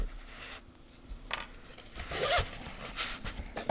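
A zipper is drawn along a Meta Quest 3 hard carrying case, giving short rasping pulls with pauses between, close and clear with no talking.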